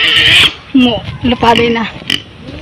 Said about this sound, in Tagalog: Baboy. Purok baboy, guys.